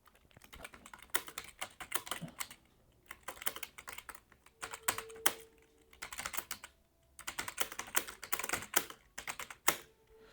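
Typing on a computer keyboard into Notepad, with bursts of quick, steady keystrokes separated by short pauses, close and moderately quiet throughout.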